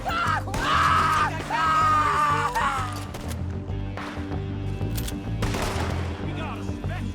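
Repeated gunshots in Red Dead Redemption 2 crack in a quick burst among rocky terrain, mixed with shouted voices and dialogue over a low game score.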